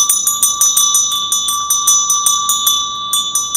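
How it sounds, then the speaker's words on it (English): A small hand bell rings rapidly and steadily through a séance, giving bright, clear, repeated metallic chimes at an even rhythm. It is loud and close, with no speech over it. "And with this ringing of this bell, we call the spirits twixt heaven and hell."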